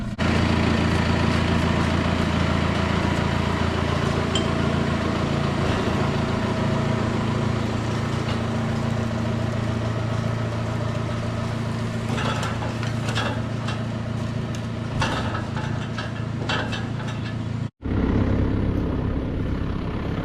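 A tractor engine running on a farm during pea harvesting, pulling a pea picker through mud, with a steady, loud, low drone throughout, briefly cut off near the end before resuming.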